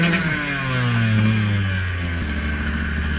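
A dirt bike engine revs hard on loose, soft forest single track, pitch climbing then dropping as the throttle shifts, loud and close with no talking.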